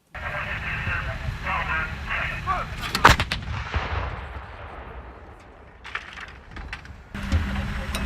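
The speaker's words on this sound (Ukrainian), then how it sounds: "точна артилерія, яка стріляє сучасними боєприпасами" A loud artillery blast from modern munitions at a NATO military exercise, with a sharp crack and rumbling tail, followed by a few more distant reports, with voices talking in the background.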